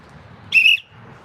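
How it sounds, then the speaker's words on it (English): A pigeon fancier blows a whistle to call pigeons near the M5: one sharp, shrill blast lasting about a quarter second, clear and close over quiet outdoor background. "So again, I'll blow that whistle."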